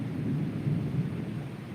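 A late-night thunderstorm rolls on as a continuous low, muffled thunder rumble over steady rain, with no voices.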